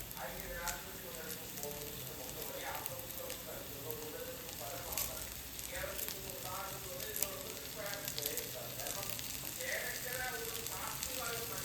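A native-style beef roast with curry leaves and coriander sizzles steadily in a pan on low flame while being stirred, a continuous close frying hiss with soft scraping throughout.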